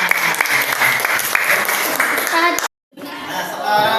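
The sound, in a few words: applause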